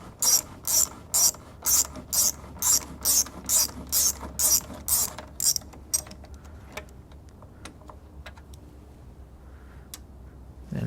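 A ratchet loosening a 10 mm bolt on a GM headlamp assembly from a Chevrolet Avalanche or Suburban, with about a dozen quick, close clicking bursts in steady rhythm, followed by quieter scattered ticks and handling noise.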